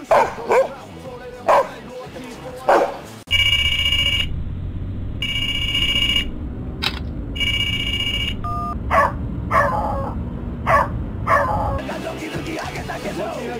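A dog barks in sharp, repeated bursts, interrupted by electronic beeps and tones, with brief talk between.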